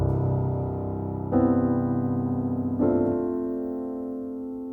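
A piano left-hand jazz part played without the sostenuto pedal: three sustained bass chords struck about a second and a half apart, ringing and fading, with no talking.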